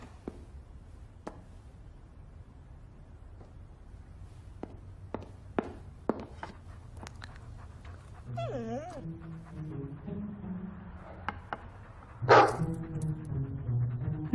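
A dog in a cluttered house shuffles and paws, with scattered clicks and footsteps, then gives whining whimpers and a sharp yelp-like bark near the end, with voices and movement around it.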